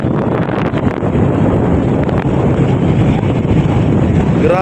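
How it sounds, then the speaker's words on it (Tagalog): Strong wind roars steadily into the microphone, a dense continuous buffeting rumble with no voices, loud and close throughout. "Lakas ng hangin."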